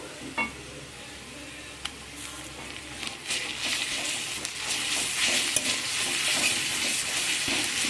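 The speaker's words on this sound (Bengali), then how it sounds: "এখানে পেঁয়াজ আমার ভাজা হয়ে গিয়েছে এখন এর মধ্যে দিয়ে দেবো রসুন বাটা" Sliced onions frying in a pan as garlic paste is added, a soft sizzle that swells into a louder, steady crackle, with occasional stirring scrapes of the spoon against the pan.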